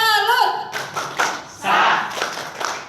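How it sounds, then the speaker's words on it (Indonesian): A group claps out a rhythmic salute, several sharp bursts of hand claps at a presentation, loud and close with crowd noise and a voice briefly heard at the start. "Tepuk salut."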